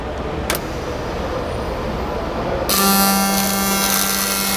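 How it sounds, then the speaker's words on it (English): Arc welding with a PIPEFAB welder begins after a quiet stretch, bursting into a steady buzzing, crackling arc with a strong hum that holds close and loud to the end, with no talking. "while he's welding"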